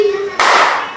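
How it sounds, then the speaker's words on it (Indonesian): A teacher's single sharp hand clap in an elementary classroom, standing in for a word, breaking off a spoken sentence and followed by a brief ringing decay. "Ucapkan ulang kalimat itu dengan tepukan."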